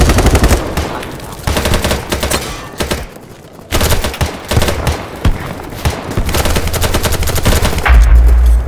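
Rapid gunfire from the shooter game BattleBit Remastered, loud bursts of automatic fire with dense repeated shots and brief pauses, close and continuous throughout.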